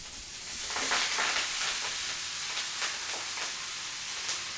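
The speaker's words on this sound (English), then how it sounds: "Let the butter warm through before adding the mustard leaves." Mustard leaves cooking in warm ghee with turmeric give a steady close sizzle, with soft stirring scrapes and crackles rising and falling throughout, no voices.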